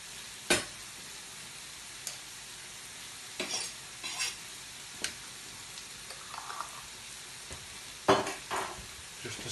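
Lazy chilli being stirred into a hot pan, a soft continuous sizzle underneath scattered sharp scrapes and clicks of a utensil against the pan, fairly quiet and close, with no talking.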